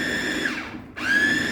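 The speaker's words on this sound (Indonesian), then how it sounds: "ini namanya bukan blender tapi apa namanya ya? Pemotong ya." An electric food cutter runs steadily, chopping honey and garlic together, its motor whine dipping briefly near the middle before picking back up, close and loud with no talking.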